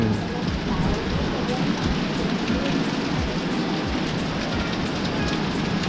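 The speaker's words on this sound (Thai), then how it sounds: "บรรยากาศดีมากฝนตกชิวๆที่ระเบียง" Steady, heavy rain patters close by on a balcony's hard surface, a dense continuous rush of drops with occasional louder splashes.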